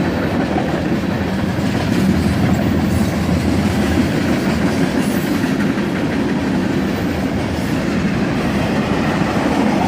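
A CSX freight train rolls past in summer heat, a loud, continuous rumble with a steady clatter of wheels on rail that holds for the whole stretch, close and unbroken.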